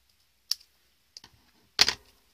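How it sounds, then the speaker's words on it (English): Scissors trimming a sheet of kraft-tex for a vintage luggage gift bag, giving a few sharp isolated snips, then a louder, fuller cut close up, with no talking. "So just take your scissors"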